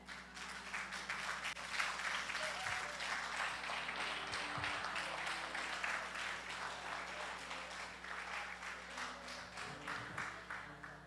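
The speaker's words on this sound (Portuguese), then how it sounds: "Vamos aplaudir o Senhor." Congregation at a Portuguese-language church service applauding, a steady dense wash of many hands clapping throughout, loud and sustained with faint murmuring beneath.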